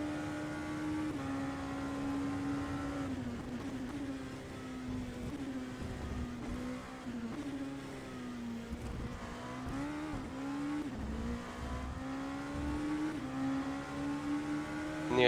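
A Porsche race car engine in the Le Mans Virtual racing game drones steadily and loudly, its pitch wavering and dipping with gear changes and throttle lifts throughout.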